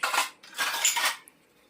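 Dishes and utensils clink and clatter in a few bursts as they are washed at a home kitchen sink during evening cooking, close and fairly loud, then trailing off into quiet.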